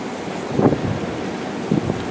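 A water fountain's sprinkler head sprays outdoors as a steady, hissing wash of water noise, mixed with wind buffeting the microphone and a couple of slightly louder swells.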